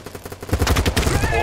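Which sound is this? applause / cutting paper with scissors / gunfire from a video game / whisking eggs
gunfire from a video game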